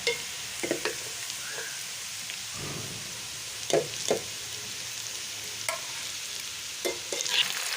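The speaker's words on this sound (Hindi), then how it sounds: "अब हमने उसी ऑयल के अंदर जो है प्याज ऐड करना है और इसको फ्राई कर लेना है।" Onions frying in hot oil in a pan for a bitter gourd and chicken dish, giving a steady soft sizzle with occasional stirring clatters and brief louder crackles, close by and with no talk.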